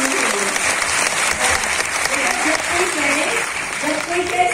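Audience applause at a direct-selling team meeting, with a steady wash of clapping for about four and a half seconds and voices audible beneath it.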